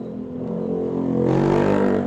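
A Honda ADV 160 scooter engine revs up to a higher mid-range pitch and holds there, a close, steady buzzing drone with the pitch rising midway through, and no talking.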